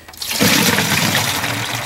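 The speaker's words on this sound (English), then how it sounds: "Pour a little bit into my watering can." Rainwater pours from a jug through a funnel into a watering can in a no-till garlic garden, a steady close rush of splashing water lasting under two seconds with no voices.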